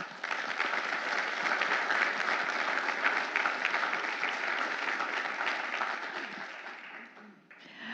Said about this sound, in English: Quick round of applause for the City of Muskego staff.